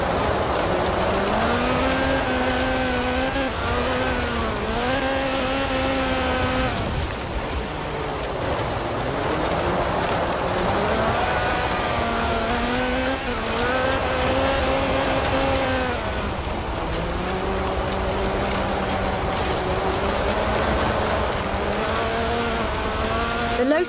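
A 1979 Lotus Sunbeam with a 2.2-litre slant four-cylinder engine making 250 horsepower, driven in Forza Horizon: a loud buzzing engine note rising and falling through gear changes and revs, continuous and close.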